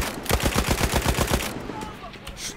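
Battlefield 1 gunfire: a fast, evenly spaced burst of loud automatic shots for over a second, then fading to scattered distant firing and battlefield noise.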